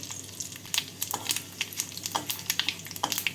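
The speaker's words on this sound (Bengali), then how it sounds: "ফোড়নে দিচ্ছি একটা শুকনো লঙ্কা দুটো তেজপাতা হাফ টিস্পুন সাদা জিরে" A dried red chilli, two bay leaves and half a teaspoon of cumin seeds sizzle in hot oil, with a soft frying hiss dotted with quick, irregular crackles and pops close by.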